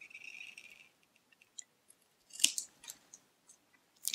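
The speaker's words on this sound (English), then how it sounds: "I'll just cut it into two pieces the opposite way." Scissors cutting a paper tag, with a brief slide of the blades followed by a few crisp snips and small clicks, close and fairly quiet, no speech.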